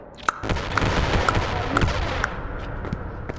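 AK-47 fire in the video game Animal Company, a series of sharp, regularly spaced shots over a dense, noisy background, moderately loud, with no speech.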